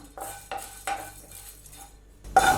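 A spoon scrapes and knocks against a pan as dry red chillies, fenugreek and coriander seeds are stirred and roasted, giving a few distinct clinks spaced apart, ending in a louder rattling stir.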